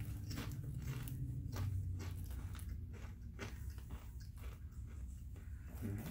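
Jalapeno tortilla chips being bitten and chewed close to the mic, a run of dry crunches in a steady chewing rhythm over a low background rumble.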